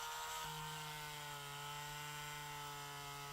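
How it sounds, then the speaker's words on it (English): A small power drill whirs steadily at close range, boring a hole through a diorama figure, a continuous even motor hum with a slight pitch drop near the start. "I'm gonna go ahead and drill a hole through this"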